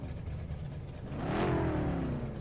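Low engine rumble idles, then ROX Mod race car engines rev up sharply at Arcadia with a rising roar that holds loud to the end.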